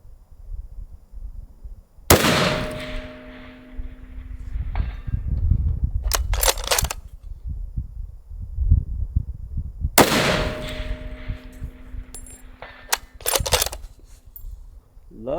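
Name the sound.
rifle gunshots at long range target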